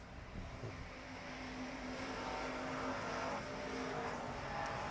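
Pure stock race cars lapping the Arizona Speedway track, a dense, continuous engine roar with a washing, distant pack quality at steady loudness, no talk.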